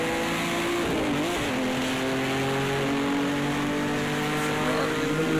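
Ferrari, Mercedes and BMW race car engines in the Project Cars 2 game at Le Mans, a continuous droning mix of engine tones with pitch swells as the cars shift and pass.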